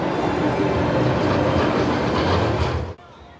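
The Iron Rattler roller coaster train at Six Flags Fiesta Texas rumbling along its track, a loud, steady clattering roar close by that cuts off abruptly near the end.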